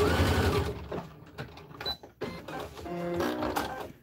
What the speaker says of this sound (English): you're going to just zip and sew straight down that line